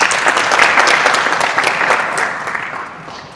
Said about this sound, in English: Please, let's give them all another round of applause